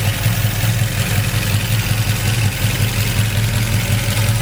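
A 1972 Pontiac LeMans with a 389 V8, tri-power carburetion and dual exhaust idles with a steady, loud, even low rumble that holds unbroken throughout.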